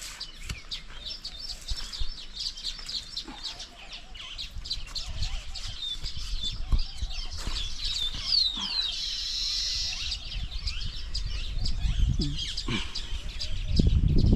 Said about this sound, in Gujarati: બહુ પક્ષી છે અહીંયા